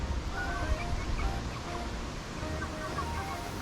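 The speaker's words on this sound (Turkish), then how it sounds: "Bu tavuklar doymak bilmiyor arkadaşlar." Several chickens cluck and call in short bursts over outdoor background noise, close by, with no talking.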